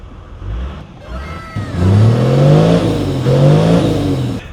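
Toyota Land Cruiser LC100 with a 3-inch exhaust revving up close after repairs, a loud engine rising and falling through two long throttle blips, no talk over it.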